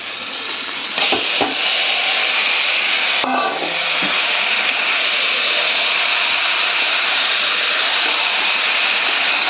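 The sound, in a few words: marinated meat poured into hot pan, sizzling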